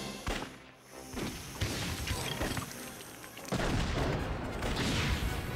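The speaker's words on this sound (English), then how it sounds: "Let's check out in play mode what happens with that rocket launcher." Rocket launcher trap firing in the LEGO Indiana Jones 2 video game: a dense run of blasts and crashing impacts with a heavier burst near the end, loud and continuous over game ambience.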